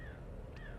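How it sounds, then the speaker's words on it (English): Crows cawing in a video game, a single harsh caw heard faintly at a distance over a steady low ambient hum. "A lot of crows here."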